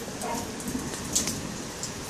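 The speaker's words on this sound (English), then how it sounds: "And it's raining!" Steady rain falls during a summer thunderstorm, a dense, even hiss of drops on surfaces with a few small spatters, moderately loud and continuous with no talking.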